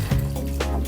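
Water poured from a jug onto flour and egg in a mixing bowl while making pasta dough for German ravioli (Maultaschen), a brief close trickling splash with small gurgles, no talking.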